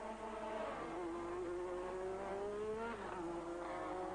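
1985 Formula One cars racing at Monza give a loud, continuous high-pitched engine scream, its pitch gliding up and down as they overtake, with no talk over it.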